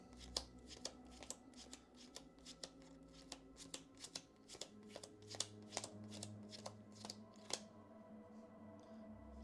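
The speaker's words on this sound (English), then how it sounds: "give them a little slice shuffling here" Hit location cards for the Kingdom Death: Monster board game are slice shuffled by hand in a quick series of sharp, close card slaps and riffles, with a faint voice murmuring low underneath.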